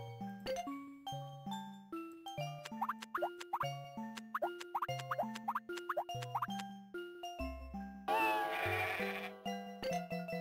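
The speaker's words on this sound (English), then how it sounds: "Why does it play a fucking cat and sheep sound?" Sheep bleats and a cat meow play as cartoonish sound effects in the Luigi's Picture Poker video game, set among bright plinking melody notes and a brief burst of noisy jingle near the end.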